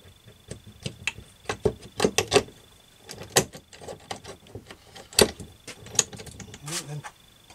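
Metal gearbox shafts and gears clinking as they are fitted into a Husqvarna CT65 / KTM SX65 engine during a rebuild, sharp scattered metallic taps and clatters close by, with someone speaking between them.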